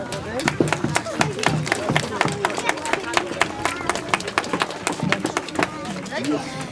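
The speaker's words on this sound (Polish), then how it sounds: "Brawa dla Kamila." Rhythmic clapping from an audience at a village Easter carolling show in Bibice, Zielonki commune, greeting a young performer: a brisk run of sharp claps that keeps time, with crowd murmur and some talk underneath.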